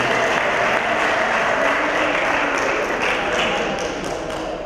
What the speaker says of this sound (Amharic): አንድ ጊዜ አጨብጭቡላቸው።